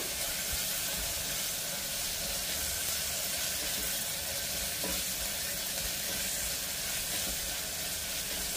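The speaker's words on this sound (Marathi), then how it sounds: "कांदा भाजण्यासाठी थोडंसं मीठ परतून घेऊया." Onions with a little salt sautéing in a kadai, a steady continuous sizzle and hiss with faint stirring scrapes, moderately quiet and without talk.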